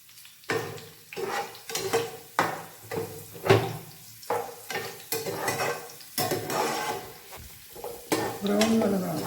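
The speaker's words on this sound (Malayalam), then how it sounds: "അണ്ടി മുന്തിരി ഫ്രൈ ചെയ്യും." Cashews and raisins fry in a pan with a soft sizzle while a utensil stirs and scrapes them in repeated uneven strokes, each one a short bright clatter, all close by.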